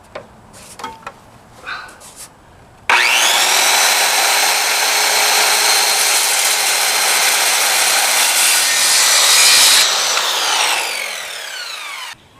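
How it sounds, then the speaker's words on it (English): A power saw cuts a wooden panel down to size for a cat scratcher ramp, running loud and continuous for about seven seconds and then winding down, after a few brief handling knocks. "So now we're going to cut our panel down to size to fit in the slot"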